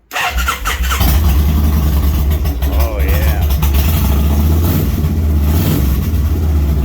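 A 2004 Kawasaki Meanstreak 1600 motorcycle with Cobra exhaust pipes cranks and fires up, then settles into a loud, deep rumbling idle with a few revs, while someone speaks briefly.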